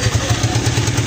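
A motorcycle engine runs close by with a steady, even chugging pulse and a rattly mechanical undertone, heard alone for about a second.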